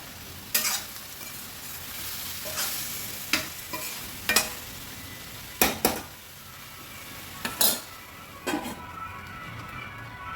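Tomatoes and capsicum fry with turmeric in a pan for a roti chutney, a soft steady sizzle punctuated by sharp, irregular spoon scrapes and clinks against the pan, without talk.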